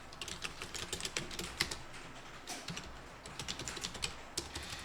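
Fingers type on a computer keyboard while a document is written, a quiet, fairly fast patter of key clicks in uneven bursts with short gaps.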